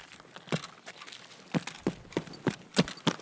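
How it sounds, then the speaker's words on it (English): Footsteps in the video game Escape from Tarkov: a run of about eight quiet, irregularly spaced thuds and scuffs, fairly close, with no talking over them. "Thought I heard footsteps."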